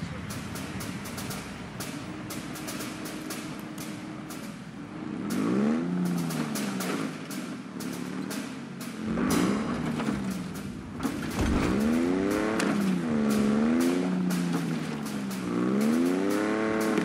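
The Warthog vehicle in Halo Infinite drives with a throaty engine that rises and falls in repeated revving sweeps, growing louder midway, under game combat noise and occasional talk.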